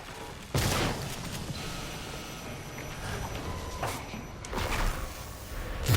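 An automated turret in the video game Prey fires a few loud, heavy blasts, separated by stretches of humming ambient noise and machinery drone.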